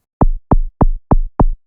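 Synthesized kick drum with a snappy attack and raised pitch envelope, struck five times at an even pace, each hit a loud punchy thump with a short low tail, heard alone.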